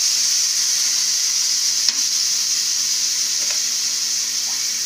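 Pork liempo hits a hot pot and sizzles loudly and steadily, with a constant hissing fry and a faint clink partway through.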